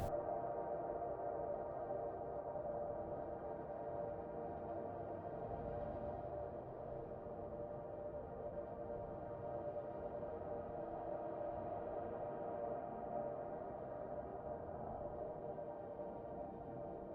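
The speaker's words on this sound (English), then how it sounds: "I think it is just a really long reverb tail." A long, sustained ambient reverb tail from a Yume Nikki contest track hangs as a steady, dense wash of tone that barely changes over many seconds, with no voices present.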